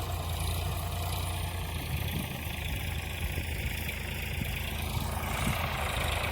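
A steady, low tractor engine idle rumbles throughout, constant and fairly loud, with no speech over it.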